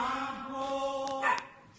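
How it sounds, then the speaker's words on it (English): A dog barks and whines in a drawn-out, sing-song way, fairly faint and at a distance, with short yips near the end. "there's a dog melodically barking in the background"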